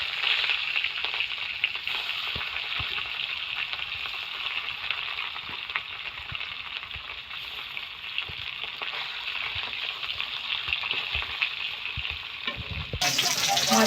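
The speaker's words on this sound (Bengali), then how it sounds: "মাছগুলো ভেজে নেবো।" Katla fish pieces fry in hot mustard oil in a kadai, a loud, continuous close-up sizzle and crackle that holds steady with occasional pops and stirring touches.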